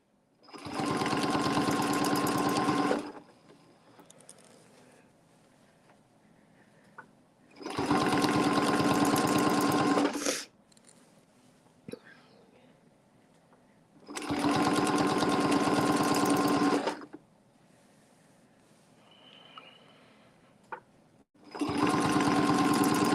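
A sewing machine stitching a curve on a quilt runs in four loud, steady bursts of a few seconds each, separated by quiet pauses with faint handling clicks.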